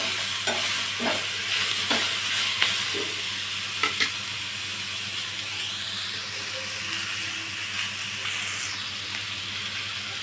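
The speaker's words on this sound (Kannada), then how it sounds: "ಟೊಮೆಟೊ ಸ್ವಲ್ಪ ಸಾಫ್ಟ್ ಆಗೋವರೆಗೂ ಫ್ರೈ ಮಾಡ್ಕೊಳ್ಳೋಣ." Tomatoes fry and sizzle steadily in a pan for a dhaba-style paneer curry, with a spoon scraping and stirring in several distinct strokes near the start over the constant hiss.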